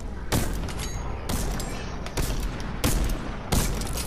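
Loud, booming shotgun blasts from a horde-rush video game ring out in a slow series of about five heavy shots, each followed by a brief decaying tail.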